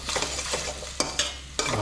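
Boiled octopus tipped into a pan of sizzling mushrooms and stirred, with a steady frying hiss broken by several sharp scraping clatters of the spoon against the pan.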